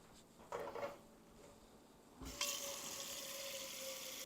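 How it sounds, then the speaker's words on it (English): Hot running water pours steadily into a pot, starting with a brief splash then a sustained close hiss of flow from a tap. "we're going to go ahead and fill up a pot with some hot water"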